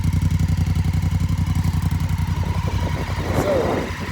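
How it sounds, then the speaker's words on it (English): A motorcycle with its stock exhaust in good shape idles steadily and close by, a regular low pulsing note that blips slightly toward the end. "And here's an exhaust note as well."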